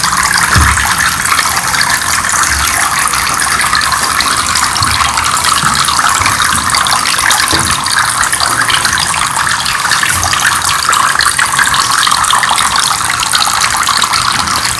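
A small 9-volt battery-powered tabletop water fountain with a submersible pump runs steadily, water splashing and trickling continuously at close range with no talk.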